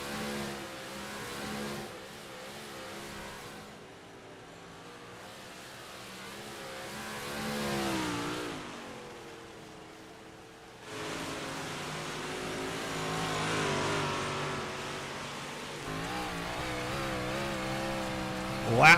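Big block modified race cars race around Port Royal, their engines rising and falling in waves as the pack passes, mostly distant and moderately loud, with a faint announcer voice underneath.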